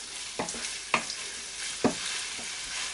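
Bacon and white cabbage sizzle and crackle in a pan while being stirred, with a soft continuous frying hiss broken by a few sharp scraping and clinking stirs, close and moderately quiet.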